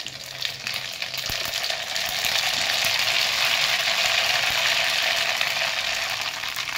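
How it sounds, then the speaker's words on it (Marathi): Mustard seeds crackle in hot oil in a kadhai, producing a soft, steady frying hiss with faint scattered pops that grows slightly fuller after the first couple of seconds. "मोहरी चांगली तडतडली"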